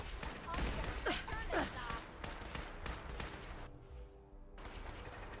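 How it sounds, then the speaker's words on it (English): Fallout 4 turrets and guns fire in fairly quiet, dense volleys of rapid shots that continue throughout under a speaking voice. "there's a lot of lead flying around"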